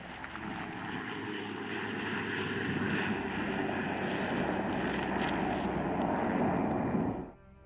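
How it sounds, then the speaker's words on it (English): An MQ-9 Reaper combat drone flying on its propeller engine, a steady droning roar that swells slightly and then cuts off abruptly at the end. "The MQ-9 Reaper, first introduced in 2007, is one of the most famous combat drones in the world."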